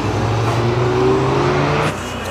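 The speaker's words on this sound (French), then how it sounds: "une belle Lamborghini Aventador, couleur vert flashy." A green Lamborghini Aventador drives on a race circuit, its engine a loud, close, steady drone with a slowly rising pitch before the sound drops off near the end.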